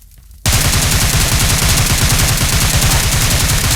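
Rapid automatic gunfire in the mobile battle royale game PUBG Mobile erupts after a brief quiet moment, then sustains loud, dense bursts of shots without a break.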